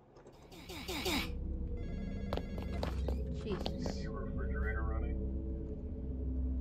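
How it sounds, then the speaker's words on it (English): A telephone rings in a graveyard-themed video game, its bell repeating steadily through the clip over game ambience and footsteps-like clicks. "Answer the phone."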